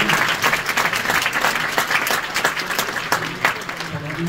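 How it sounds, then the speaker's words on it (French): An audience at a film festival opening ceremony applauds steadily, a dense wash of clapping from many hands throughout, with a voice speaking over it. "je vous demande d'applaudir très fort"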